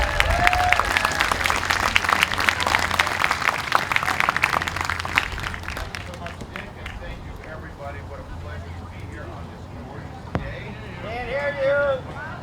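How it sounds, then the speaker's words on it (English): Loud crowd applause at an outdoor summer park concert fills the first half, then thins into scattered clapping and cheers from the audience as a band is introduced, with a whistle near the end. "Give them a round of applause."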